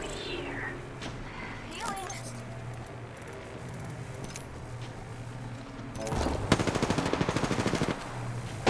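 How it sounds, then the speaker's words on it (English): Video game gunfire comes in rapid bursts: a few scattered shots early, then a loud, dense automatic volley near the end, with players chatting over it. "He's shooting us, dude, from up there."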